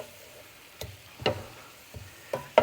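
Spinach tossed in extra virgin olive oil with garlic and onions gives a faint, quiet sizzle, broken by a few sharp clattering strikes from stirring spaced about half a second apart.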